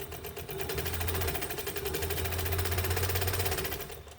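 A Westinghouse UHB sewing machine stitching, a steady fast mechanical chatter with a low hum underneath, running continuously at close range with no talk.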